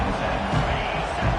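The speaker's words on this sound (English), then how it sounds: "Listen to this crowd." Loud stadium crowd at an Ohio State versus Georgia college football game, a dense, continuous roar of cheering and yelling filling the space at steady volume, with a broadcaster's voice partly buried beneath it.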